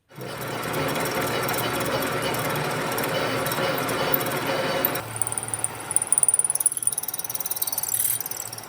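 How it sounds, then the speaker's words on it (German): A power drill whirs loudly and steadily, then its pitch and tone change partway through as it bites in, drilling a hole in a Yamaha XT500 cylinder, with rattling, uneven bursts toward the end. "bohren wir mal ein Loch oder fertigen eine Bohrung an"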